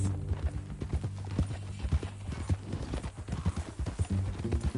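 Horse hooves clip-clop in Red Dead Redemption 2, a quick, steady run of close, crisp hoof beats under faint background ambience.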